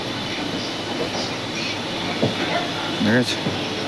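Trains at Howrah railway station platform, a low rumbling wash with brief wheel squeals and station noise, while someone talks briefly.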